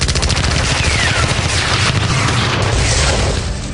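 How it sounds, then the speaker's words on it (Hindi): Sustained gunfire from village houses in a wartime battle scene, dense rapid overlapping shots and bursts forming a continuous loud clatter with no pauses. "2:30 से ही गांव के कुछ घरों से गोलियों के चलने की गतिविधियां शुरू हो गईं"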